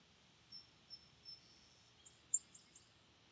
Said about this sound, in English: Crazy bird noise.